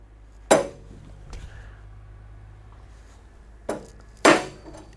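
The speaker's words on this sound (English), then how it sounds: "give our rod a tap with our rawhide mallet here" Rawhide mallet striking a metal rod on a power shaft and chuck grinding setup, a sharp single tap near the start, then two more knocks close together later, loud and near against a quiet workshop hum.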